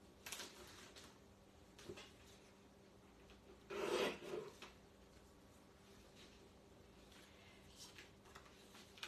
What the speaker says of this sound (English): let me just trim this in my trimmer